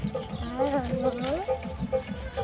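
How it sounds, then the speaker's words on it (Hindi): A chicken clucks and squawks in agitated bursts at close range while being caught during a Santali village daily routine, its calls rising and falling, with people talking around it. "तुम मुर्गी को पकड़ना तो मुर्गी कैसे पकड़ेंगे"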